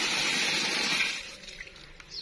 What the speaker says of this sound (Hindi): पानी चल रहा है बिल्डिंग के अंदर